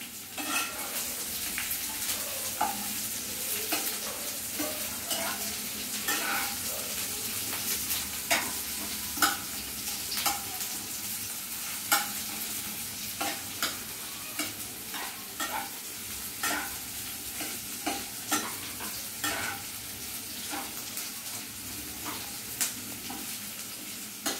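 Aloo gobi paratha filling sizzles steadily in a hot pan while a spoon stirs it, scraping and clinking at irregular intervals over a continuous frying hiss, close up with no voices.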